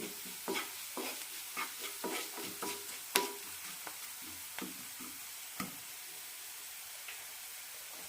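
Turmeric, chili powder and garam masala are sautéed in a pan for beetroot egg podimas. The sound is quiet, with a soft sizzle under repeated spatula scrapes and taps at an irregular rhythm.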